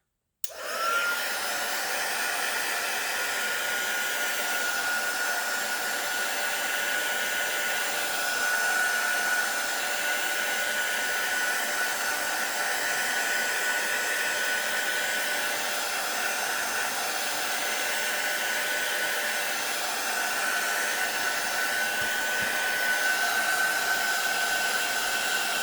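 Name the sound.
heat tool (heat gun) drying art journal page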